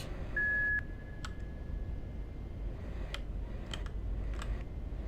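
A thin, steady electronic beep rings for about two seconds in a bleak narrative game, with a few faint clicks scattered over a soft background hiss.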